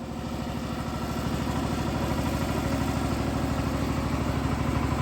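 A tractor engine runs steadily at idle, close and loud, with a continuous low pulsing clatter and no break for the whole stretch.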